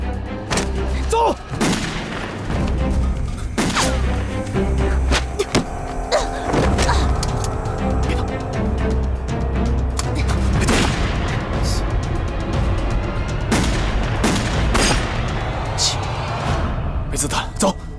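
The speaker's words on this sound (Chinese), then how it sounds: "开枪了！" Gunfire in a tense shootout scene from a period detective drama, with a M1903 Browning pistol among the guns: dense, repeated loud bangs and impacts scattered through the scene over shouting voices and dramatic music.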